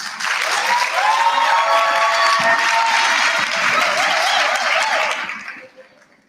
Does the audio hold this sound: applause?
yes